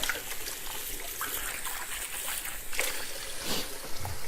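Running tap water splashes steadily as cleaned shrimp are rinsed for a pasta dish with veggies and sausage, a continuous close trickle with brief louder gushes and no talk.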